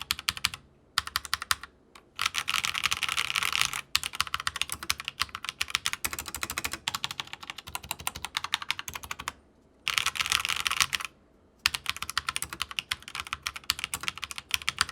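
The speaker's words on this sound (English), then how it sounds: "the sound that actually comes from this keyboard is pretty good" Fast, continuous typing on an Aukey KM-G18 mechanical keyboard with red switches, crisp close clacks in steady bursts broken by a few short pauses, with no voices.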